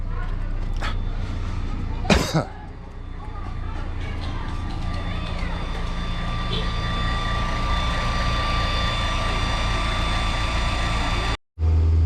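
A Nissan Altima 2.5 engine idles with a low, steady drone, with a sharp click and brief mechanical noise early on, then a sudden cut near the end.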